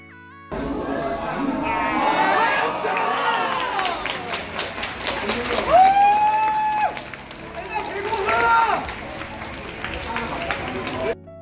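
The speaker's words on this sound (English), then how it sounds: "Here's what it sounded like in the venue after Faina's Game 1 8-kill performance on Chloe." A packed crowd cheers and shouts at the 2022 Eternal Return Festival esports venue in Busan, a loud, sustained roar of voices and clapping that swells to peaks midway and again near the end.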